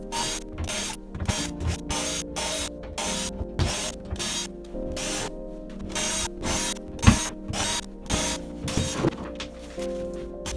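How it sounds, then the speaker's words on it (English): A power driver removes screws from the bow of a Hallberg Rassy 312 sailboat in repeated short whirring bursts with pauses between them, close and fairly loud, with one sharp knock near the middle. "ready to unscrew all the screws"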